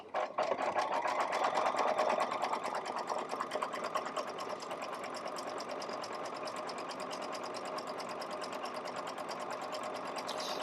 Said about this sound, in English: we're going to finish off the stitching, the satin stitching.